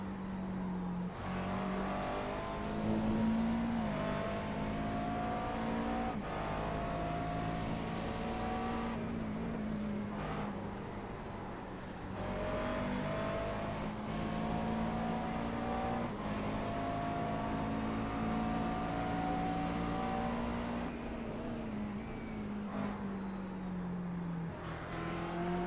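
GT race cars at the 24 Hours of Spa roar past one after another, engines rising and falling in pitch as they accelerate and shift, loud and continuous with no talking.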